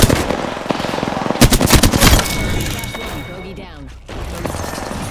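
Rapid bursts of PK machine gun fire in a video game, loud and close, with sustained automatic rattling that breaks off into echoing game effects and a short pause near the end.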